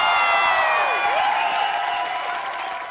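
Studio audience at a TV comedy show claps and cheers loudly in a sustained wash of applause, with bright musical tones and a sweeping sound effect playing over the crowd.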